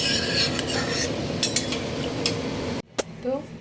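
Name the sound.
stirring chhana balls into kofta curry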